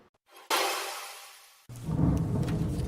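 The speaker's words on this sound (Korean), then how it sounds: "밖에 비 오면서 천둥번개 소리가 지금 녹음실을 진동하고 있습니다" Thunder rumbles during rain outside a recording studio, a sudden loud crack that slowly decays, followed by a deep, rolling, low rumble, heard from indoors.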